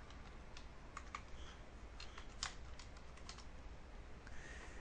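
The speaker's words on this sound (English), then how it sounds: "We can type anything in here." Quiet, uneven clicking of keys as someone types on a computer keyboard, a rapid run of soft taps with short pauses, close and alone without voices.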